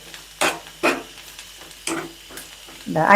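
Coconut and spices roasting in a pan for Kerala-style sambar, with a few scraping stirs and soft frying crackle that builds toward the end; no speech.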